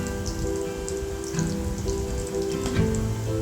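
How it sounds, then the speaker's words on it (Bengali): Egg pakoras deep-fry in oil over medium heat, a steady crackling sizzle with scattered pops and bubbling, close and continuous, with faint tonal hum beneath. "এই জন্য আমরা মিডিয়াম আঁচে ভেজে নিচ্ছি।"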